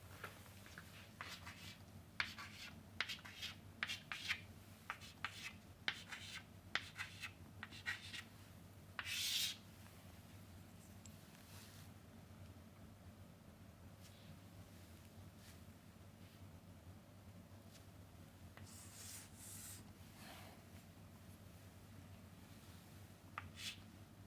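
A pen scratches and rubs across paper while a diagram is drawn by hand, with quick close strokes that come in bursts early on and then fade into a long quiet stretch with only faint, sparse scratches.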